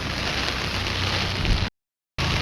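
Steady, heavy hiss of rain pouring outdoors over rice seedling fields, broken by a brief total silence before the downpour resumes.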